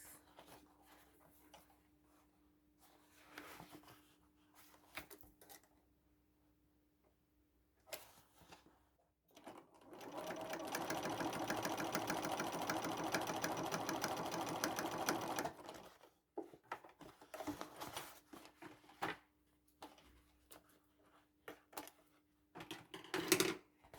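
Top stitching bucket hat pieces on a sewing machine: after scattered handling clatter, the motor runs in one continuous, even buzz for about six seconds, then gives way to brief stop-and-start stitching and small knocks.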